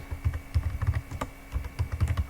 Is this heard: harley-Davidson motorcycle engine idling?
no